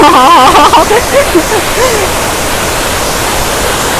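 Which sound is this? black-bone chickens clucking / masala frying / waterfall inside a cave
waterfall inside a cave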